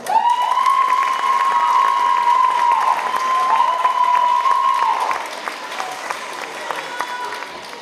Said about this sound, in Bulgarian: Нека ги посрещнем с аплодисменти.